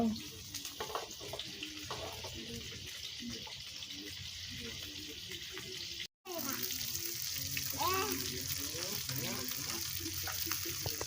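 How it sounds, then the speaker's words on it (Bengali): Koi fish frying in hot oil gives a steady, fairly quiet hiss and crackle, with a voice murmuring faintly underneath. A brief dropout splits the sizzle partway through. "আমরা এই মাছটাকে ভাজবো, সুন্দর করে মাছটা তেলে ভাজবো।"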